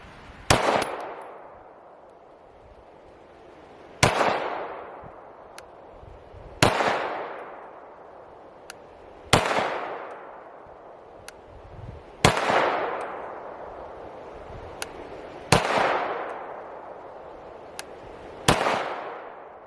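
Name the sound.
Canik Rival Dark Side pistol gunshots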